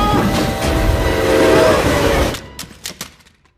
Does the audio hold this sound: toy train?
yes